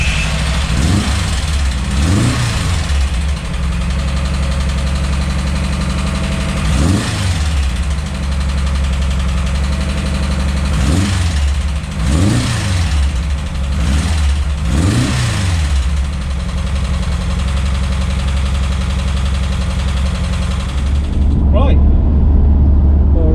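A VW T25 van engine fitted with a new stainless steel exhaust runs steadily and loudly close by, with several distinct revs rising and falling over the idle before it cuts off near the end.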